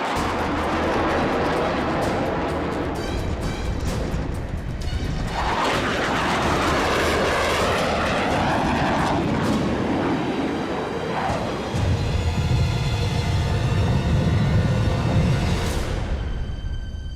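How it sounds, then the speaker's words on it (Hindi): Loud roar of an F-35 fighter jet passing overhead as a film sound effect, a sustained broadband rush that swells and shifts in pitch, with a deep rumble building toward the end. "लगता है ये हमारा फाइटर जेट है, एक F-35।"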